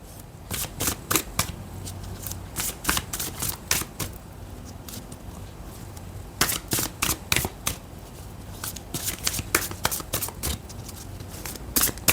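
Spirit animal oracle cards being shuffled by hand, crisp riffling bursts coming in irregular clusters with short pauses between them, close and fairly loud, with no talking.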